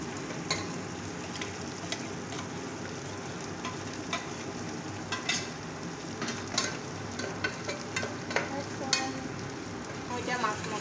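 Ground tomatoes go into a pan of fried onions while making butter chicken, giving a steady close sizzle with occasional stirring clicks throughout.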